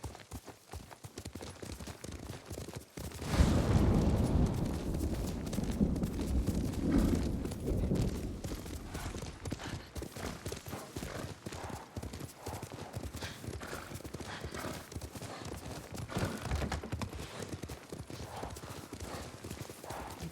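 Horse hooves clip-clopping while riding in the video game Ghost of Tsushima, a steady rhythmic gait layered with game ambience, a brief whinny and some background voices.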